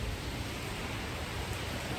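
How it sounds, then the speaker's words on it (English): Rain falling outdoors on a rainy day in Matsumoto, a steady, even hiss of rainfall with no distinct drops or talk. "It's rainy outside today"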